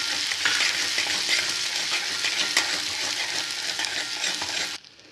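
Green chillies frying with chopped ginger and garlic in hot oil, a steady dense sizzle with stirring scrapes, close and loud, cutting off sharply near the end.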